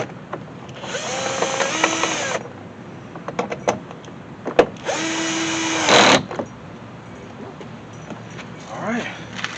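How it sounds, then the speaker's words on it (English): Power tools including an impact driver used on window work: two sustained whirring runs of about a second and a half each, separated by sharp clicks and knocks, with a short revving burst near the end. "Power tools and impacts. That's all you need."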